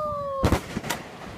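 Backyard Fourth of July fireworks go off with a whistle followed by a couple of loud nearby bangs and crackling that fades over about a second.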